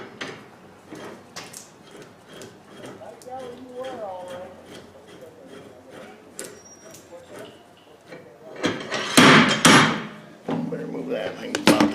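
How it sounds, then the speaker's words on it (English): A slide hammer knocks at a Kia Sportage rear axle shaft during a rear wheel bearing job, with irregular metallic knocks, a loud cluster of heavy blows near the end, and talk in between. "hopefully we can stick our slide hammer on this, administer some beans to it, and it will come off relatively easy"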